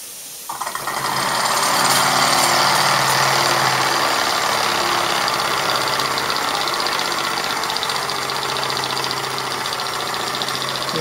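A model SP8 steam beam engine runs fast after starting, a loud, close, rapid mechanical chuffing and clatter that rises within the first second and then holds steady.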